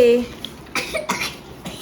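A few short coughs in a home, sharp separate bursts spaced close together.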